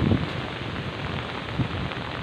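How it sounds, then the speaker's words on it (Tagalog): Heavy rain from Typhoon Agaton pours down over a flooded area near a small river, a dense, continuous hiss close to the microphone with a few louder splashes. "malakas kasing ulan"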